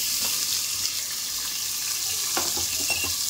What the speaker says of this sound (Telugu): ఉల్లిపాయలు వేస్తున్నాను.